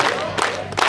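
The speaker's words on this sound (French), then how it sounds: "nous allons nous applaudir nous-mêmes" Crowd applause at a festival gathering in Loango, dense clapping with bursts of cheering swelling twice, loud and close.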